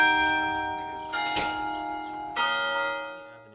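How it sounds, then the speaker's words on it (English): The bells of Schaefer Tower at Ball State University ring out in slow, resonant strikes on the quarter hour, each tone hanging and decaying in a spacious, open setting. "Every quarter hour, the bells of Schaefer Tower sound off for the students of Ball State University."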